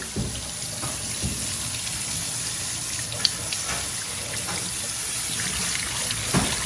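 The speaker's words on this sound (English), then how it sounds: "I got 1 cup of basmati here, and I'm just gonna put it in this sieve and just really rinse it good." Basmati rice rinsed in a sieve under running water, a steady splashing flow with scattered ticks of grains and sieve, continuous and fairly close with no talking.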